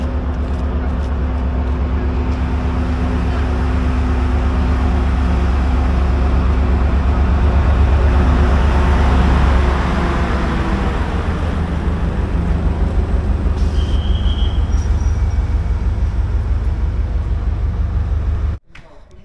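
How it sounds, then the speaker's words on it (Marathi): A passenger train pulls out of Srinagar station in Kashmir bound for Budgam, heard from inside as a loud, steady low rumble with rhythmic wheel clatter that cuts off abruptly near the end. "आपली ट्रेन रवाना झालेली आहे बडगामच्या दिशेने"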